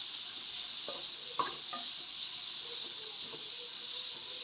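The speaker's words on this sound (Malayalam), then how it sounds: "ഈ പഞ്ചസാരയും തേങ്ങയും ഇതൊന്ന് പിടിച്ച് വരുന്നവരെ ഇങ്ങനെ വേവിച്ചെടുക്കുക." Sugar and grated coconut cook in a pan, a steady low sizzle and hiss with occasional soft scrapes and knocks of stirring, faint and even throughout.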